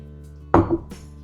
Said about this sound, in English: I have 4 hard-boiled eggs that I'm going to slice up